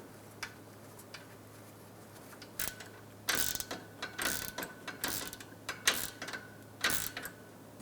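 A ratchet tightens a bolt on the AC line set of a 2007-2012 Nissan Altima during radiator support work. Short runs of crisp, close clicking come in several quick bursts with brief pauses between them.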